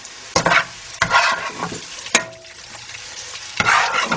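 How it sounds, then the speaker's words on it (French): Vegetables crackle faintly in a frying pan as a utensil scrapes and stirs them in several separate bursts, with quieter sizzling between the movements. "alors nos légumes sont frits, donc on va les retirer de la poêle"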